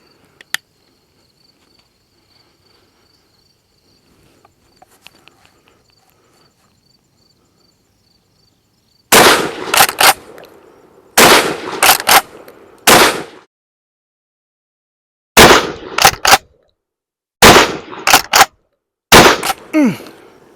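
A Charles Daly Field Maxi-Mag 12 gauge 3 1/2-inch magnum shotgun fires buckshot in about eight sharp, loud blasts spaced a second or two apart, after a long near-silent stretch with faint handling clicks.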